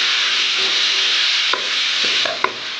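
Tomato being stirred into a Thattukada-style beef roast in a pan: a steady close sizzle runs throughout, with a few light scraping and knocking stir sounds near the end.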